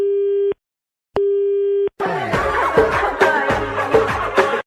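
A phone busy tone follows a hung-up call: two steady, loud beeps with a pause between them, then the tone cuts off and dense music begins.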